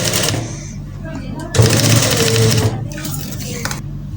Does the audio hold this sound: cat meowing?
no